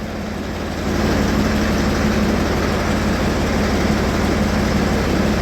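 A Ford tractor engine runs steadily, with a loud, close, low rumbling drone that rises slightly in level after the first second and then holds without a break.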